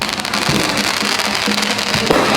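Fireworks crackle and pop in a dense, continuous barrage, with a few sharper bangs standing out over the steady crackling.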